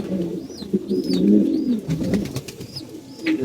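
Domestic flying pigeons coo repeatedly in a loft, with soft overlapping rolling calls close by and brief higher chirps mixed in throughout.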